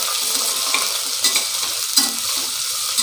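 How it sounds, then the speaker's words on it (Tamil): Chopped onion sautéing in a pan for a one-pot soy chunks pulav, a close, steady sizzle broken by repeated scraping and stirring strokes, with no voices. "இதில் இப்போ ஒரு பெரிய வெங்காயம் வெட்டி வச்சுருக்கேன், அதை நான் சேர்த்துக்கிறேன். இதை இப்போ கொஞ்சம் வதக்கி எடுத்துக்கிடுவோம்."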